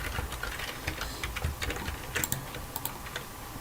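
Fingers type on a computer keyboard in quick, irregular clusters of close, crisp key clicks over a faint room hiss, with no talking.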